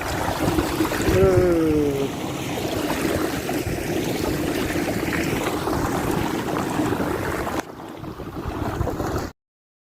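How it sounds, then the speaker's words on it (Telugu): Small sea waves wash onto the beach at Mutyalammapalem in Anakapalli district, a steady broadband surf rush blended with wind buffeting the microphone, and a brief whistle-like tone early on. "ఈ లోపల కూడా చిన్న చిన్న కెరటాలు అయితే వస్తున్నాయి చూడండి ఫ్రెండ్ ఈ కెరటం భలే ఉంది"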